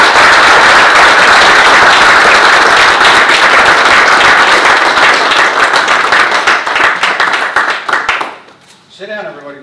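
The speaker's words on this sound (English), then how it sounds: "Let's give him a round of applause." Sustained applause from an audience at a U.S. Navy retirement ceremony, loud and dense for about eight seconds before thinning out and stopping, with a voice speaking briefly as it ends.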